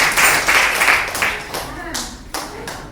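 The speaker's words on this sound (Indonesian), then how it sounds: "beri tepuk tangan untuk Asen" Audience clapping at a church gathering, a few loud bursts of clapping that fade between bursts, with a voice speaking over parts of it.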